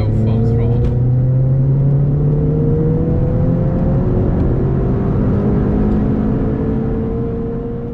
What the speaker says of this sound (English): So third gear, I'm now full throttle.